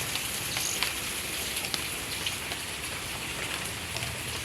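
Sudden heavy summer rain pours down in a steady, dense hiss of drops hitting leaves and surfaces, continuous and fairly close, with no voices.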